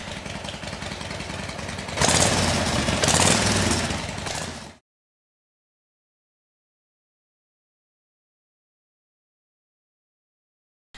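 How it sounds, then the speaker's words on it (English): A Harley motorcycle engine starts after a kick and runs with a steady, loud, rough mechanical drone. It swells briefly twice, then cuts off abruptly into silence, with no talking. "you kick the Harley over and it starts up"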